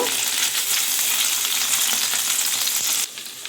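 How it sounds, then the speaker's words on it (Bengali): Paneer pieces browning in hot oil give a dense, loud sizzle that runs continuously, then suddenly drops away near the end, with no talking. "পনিরগুলোকে আমি লাল লাল করে আগে ভেজে নেব"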